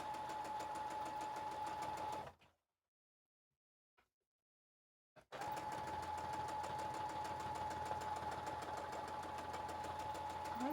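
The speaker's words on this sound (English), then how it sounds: "Why is the sewing machine so wonky on the table?" A sewing machine runs steadily with a constant mechanical whir, stops for a few seconds of silence, then starts up again and keeps going.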